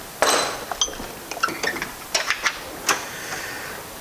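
Metal tools clink and tap while someone works on engine parts, with a handful of sharp, irregular metallic knocks and rattles, fairly close, against a quiet background.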